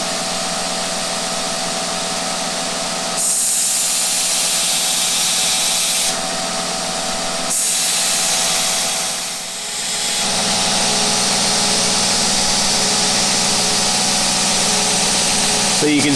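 A parang blade is convex ground against a running belt grinder, the steel pressing into the flexing belt with a loud, steady abrasive roar and hiss that changes tone in passes over about sixteen seconds, with brief dips between contacts.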